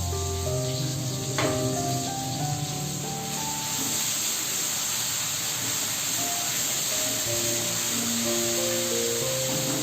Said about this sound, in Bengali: এবার আমি গ্রেট করে রাখা আদা আর কাঁচা লঙ্কাটা দিয়ে দেবো।